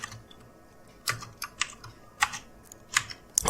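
Typing on a computer keyboard while entering a domain name during Ubuntu server DNS setup: irregular light clicks in small bursts, close and clear over quiet room tone.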